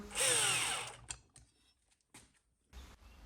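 A power tool drives nuts tight onto the bearings of a riding mower deck, with one loud, close whirring burst of about a second followed by a few faint clicks and knocks.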